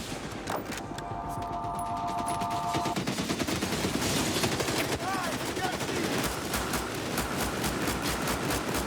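Gunfire crackles in a dense, sustained battle din, with repeated shots and bursts layered over a constant roar of noise throughout.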